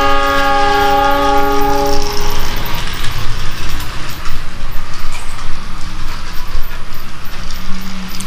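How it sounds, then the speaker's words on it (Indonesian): A toy Thomas-style train sounds a loud multi-tone horn for about two seconds, then runs on with a steady clattering, rattling rumble of wheels on track, close and unbroken. "Wow, kereta api SpongeBob sangat semangat untuk mengejar kereta api Thomas."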